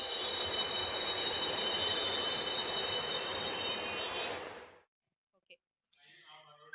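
A running train gives a steady, fairly loud rattling rush with high metallic squeal for about five seconds, then stops abruptly into near silence.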